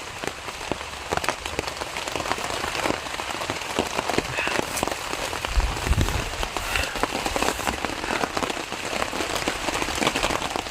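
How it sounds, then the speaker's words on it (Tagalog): Heavy rain pours down close by, a dense constant patter of drops striking surfaces with scattered sharper splashes and no voices. "Bigla lang lumakas yung ulan."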